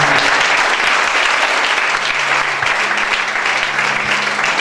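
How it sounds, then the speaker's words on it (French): Loud, sustained applause and cheering from an audience at a church sermon, a dense, steady roar of clapping that fills the whole stretch without pause. "On acclame très fort"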